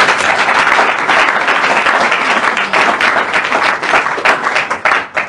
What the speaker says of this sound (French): Nos enfants, est-ce que nous pouvons encore acclamer pour eux?